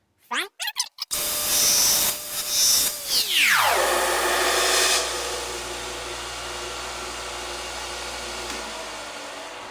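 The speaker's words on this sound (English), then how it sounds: "we're gonna sand it and wedge" A power sander for resoling the rubber sole of a climbing shoe: a few sharp clicks, then a loud steady motor whine that drops in pitch as it spins down, leaving a low hum.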